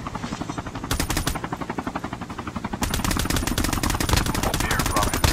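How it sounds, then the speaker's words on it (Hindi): Rapid automatic M4 rifle fire in Call of Duty Mobile, loud, continuous bursts of evenly spaced shots with a denser, heavier stretch in the second half. "बहुत अच्छा गन है M4"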